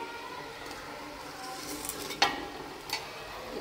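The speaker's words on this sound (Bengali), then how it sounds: "এখানে আমি একটু পেঁয়াজ বেরেস্তা দিয়ে দিতেছি" Fried onion beresta being stirred into beef rezala in a pot, a soft continuous sizzle with a few faint scraping clicks of the spoon, quiet and close with no talking.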